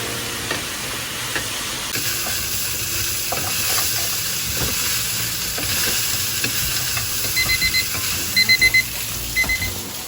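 Pork ribs frying hard over the strongest stove flame, a loud steady sizzle spitting and crackling throughout, with a few short high electronic beeps near the end and no voices.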